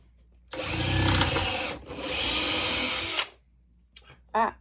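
A power drill whirs loudly in two bursts of a few seconds each, with a short pause between, followed by faint clicks and a brief squeak.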